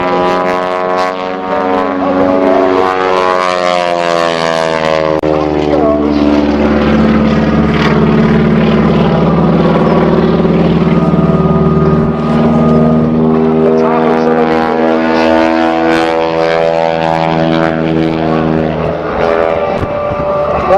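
A young pilot flies an aerobatic propeller plane through the box at a Saskatoon air show, its engine droning loud and sustained with slowly sweeping pitch as it climbs and turns, an announcer's voice faintly mixed underneath.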